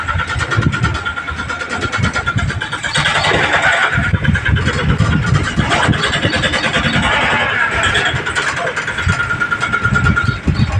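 A tempo engine runs close by, a loud steady rumble with irregular low pulses that continues through the whole stretch, while people talk over it.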